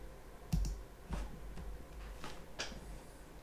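Computer mouse clicks at a desk while working in 3D modeling software, a few sharp, quiet, separate clicks spaced irregularly across a near-silent room.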